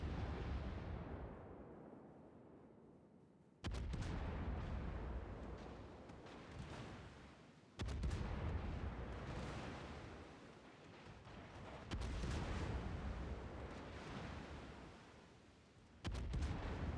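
Warship main batteries firing in World of Warships, four heavy booming salvos spaced a few seconds apart, each rumbling and fading before the next, with no talking.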